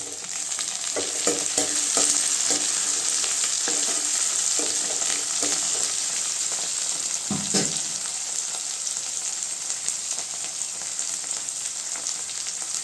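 Curry leaves and tomatoes sauté with onions in a hot pan for paruppu keerai koottu, giving a steady close sizzle with scattered stirring clicks and scrapes and no talking.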